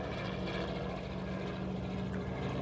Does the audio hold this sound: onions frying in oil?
no